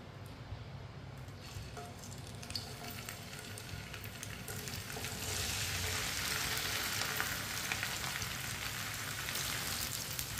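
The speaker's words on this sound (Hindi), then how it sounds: "ऑयल को अच्छी तरह गर्म कर लेंगे। कटी हुई भिंडी डाल लेंगे।" Chopped okra fries in well-heated oil with a continuous close sizzle that swells noticeably about halfway through and stays dense and steady to the end.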